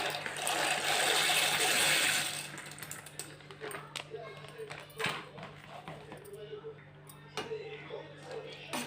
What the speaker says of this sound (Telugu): ఇప్పుడైతే మన పాస్తా అయితే వేసేస్తున్నాను